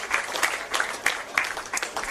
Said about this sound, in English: And well clapped off by the supporters of both sides as well